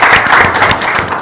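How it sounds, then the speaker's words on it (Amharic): An audience applauds on request for just over a second, a loud, dense burst of many hands clapping at once, close and without talk. "አጨብጭቡልኝ።"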